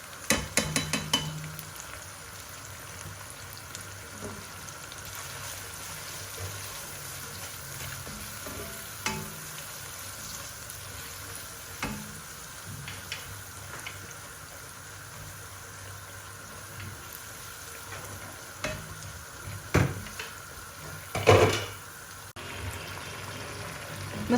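Tomato masala with salt, chili and turmeric frying in oil in a pan, a soft steady sizzle with occasional stirring clinks and scrapes, fairly faint throughout.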